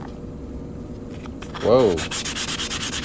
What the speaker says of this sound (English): I'm gonna go ahead and sand that cut edge down a little bit.